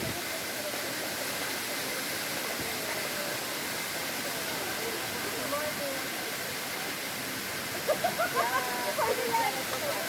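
Water rushes steadily and loudly throughout, like a waterfall or fast stream, at a garden in Bulusan, with faint voices breaking in near the end.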